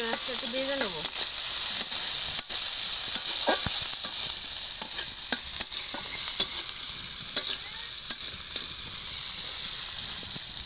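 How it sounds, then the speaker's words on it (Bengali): Shrimp seasoned with turmeric and salt fry in hot oil, a bright continuous sizzle punctuated by frequent sharp spatula clicks and scrapes against the pan, close and loud with no talking. "চিংড়ি মাছটা একটু ভেজে নেবো।"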